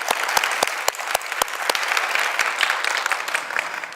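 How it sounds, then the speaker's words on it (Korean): A church congregation at a young adults' worship service claps in welcome, a lively burst of applause with sharp, distinct claps standing out over the crowd, close and loud with no talk. "우리 박수로 좀 환영해 드릴까요?"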